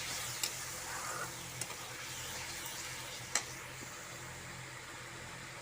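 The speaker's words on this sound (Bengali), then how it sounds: "ভালো করে কষিয়ে নেব।" Mustard paste and masala sizzling in a pan for a puti fish curry, a steady soft hiss with a few faint clicks from stirring. No voice is heard over it.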